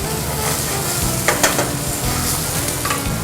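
Meat with marmalade and ginger fries in a pan until golden, making a steady, dense sizzle with light stirring scrapes and a couple of small pops near the middle, with no voices.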